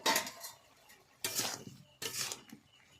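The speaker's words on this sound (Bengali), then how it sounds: "ঢাকনা খুলে দেখে নিচ্ছি।" A lid lifted off a cooking pot of mixed vegetables and soybean chunks, heard as three brief metallic clinks and scrapes spaced about a second apart, close and fairly quiet.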